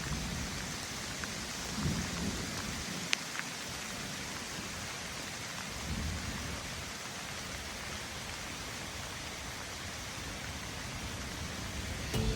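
Steady heavy rain pours across the Brazilian cerrado at Chapada dos Guimarães, a dense continuous hiss with low rumbles of thunder rolling underneath throughout.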